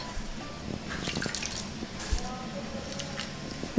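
Tempering spices drop into hot oil in a pan while cooking elephant yam gravy. Faint, scattered crackles and light pops sound over a soft hiss, with a few louder pops along the way.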